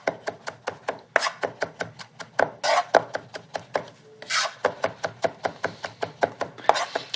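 Carrot tops and parsley are chopped for gremolata with a knife on a wooden board, a steady rapid run of close, crisp knocks mixed with scraping sweeps of the blade.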